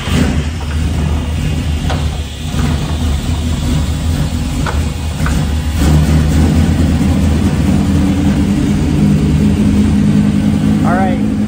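A Superlite SLC with a V10 engine turns over and settles into a loud, steady idle and rumble, with a person talking over it.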